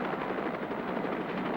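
Helicopter flying low over herds of elephants in an African wildlife reserve, its dense rotor drone steady and loud throughout with no voices.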